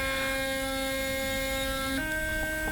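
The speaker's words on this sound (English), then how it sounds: "As you could tell, the noise of the toothbrush went down." Mornwell sonic electric toothbrush buzzing, a steady close tonal hum that shifts to a slightly different pitch partway through as the mode changes, with no talk.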